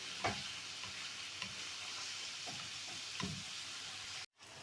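Small pieces of meat sizzle steadily in a hot pan, a constant crackling hiss with occasional scrapes of stirring, close and fairly quiet.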